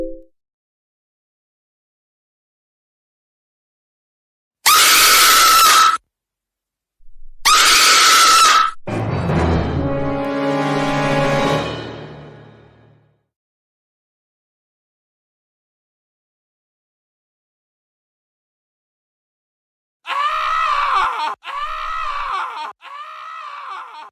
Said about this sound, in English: It sounded like someone screamed really loudly.